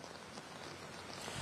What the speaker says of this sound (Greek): η βροχή δεν έχει σταματήσει από το πρωί σήμερα